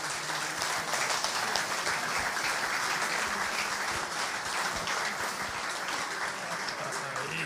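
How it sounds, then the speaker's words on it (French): An audience in a hall applauds volunteers during an association's season presentation, with dense, steady clapping that holds for several seconds. "Donc je voudrais qu'on applaudisse tous les bénévoles qui nous aident au quotidien."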